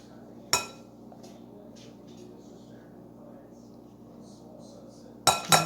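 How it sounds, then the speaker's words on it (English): A spoon knocks sharply twice against a glass bowl, once near the start and again near the end, as a cup of smooth peanut butter goes in with two sticks of butter. Quiet kitchen room tone fills the gap between the clinks. "I have in a glass bowl 2 sticks of butter, and I'm going to add a cup of peanut butter,"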